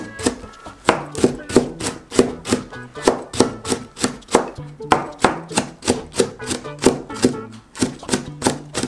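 Knife chopping chili peppers on a cutting board for a seaweed and tofu pancake, a steady run of sharp, close taps at a quick even rhythm, with faint speech in the background.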